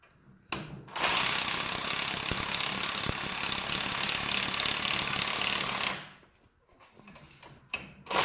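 A Harbor Freight impact wrench running in a home shop while building a Subaru Baja suspension lift kit: one continuous loud, buzzing hammering burst of about five seconds, with quieter shop clatter before and after.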